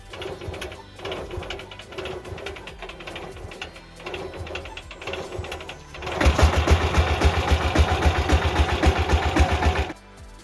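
A tractor engine runs with a rapid, rhythmic mechanical chugging that grows louder and denser partway through, then cuts off near the end.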